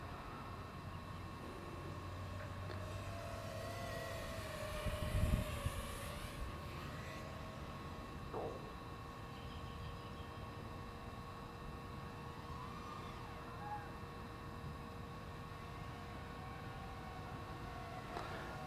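An Emax Babyhawk II HD FPV drone flies with a steady, high-pitched whirring buzz that rises and falls in pitch as it maneuvers, with one brief louder rush partway through.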